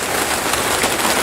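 Steady rain falls on a surface outdoors beside a patch of microgreens, a dense close hiss that continues without a break through the short stretch.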